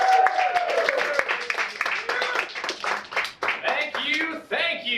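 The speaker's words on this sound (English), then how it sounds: "The crowd claps and cheers." A crowd at a live music show claps and cheers after a song, scattered sharp hand claps and whoops mixed with loud voices shouting and talking close by.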